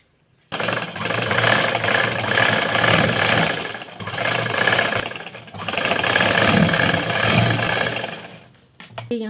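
A sewing machine runs loudly and continuously with a steady mechanical whir while stitching piping onto a suit neckline, close by, in three long sustained bursts separated by brief slowdowns, stopping near the end.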